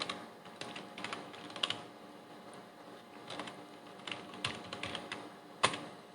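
Someone types a C++ program on a computer keyboard, with quiet, irregular clusters of key clicks and a few sharper taps across the stretch and no talking.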